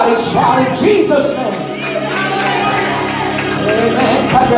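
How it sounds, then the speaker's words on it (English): Church congregation at a Wednesday night service shouting and cheering together in worship, a loud, sustained crowd of voices with whoops and cries filling the room throughout, music tones running underneath. "Everybody shout in Jesus'"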